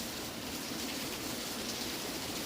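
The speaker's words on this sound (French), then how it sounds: "Il mouille beaucoup, beaucoup." Heavy rain pours down as a dense, steady wash of hiss, unbroken and fairly loud throughout, with no voices over it.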